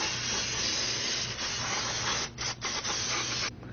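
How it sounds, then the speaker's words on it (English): Brake cleaner hisses from an aerosol can onto a car's brake rotor in a long, steady spray, with a few brief breaks near the end before one last burst. "get some brake cleaner, spray that off, and turn this as you go so you can get it nice and clean all the way around"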